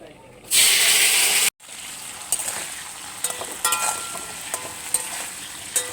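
Cauliflower florets and potatoes go into hot oil with cumin seeds tempered until red, hitting with a loud burst of sizzling hiss, then a brief cut and steady quieter frying with occasional stirring clinks.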